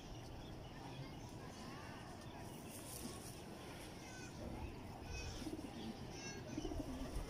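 Breeder pigeons coo softly in low, rolling calls against a steady background hiss, with a few brighter chirps near the end and some quiet talk nearby.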